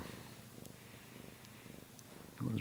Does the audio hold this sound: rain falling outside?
no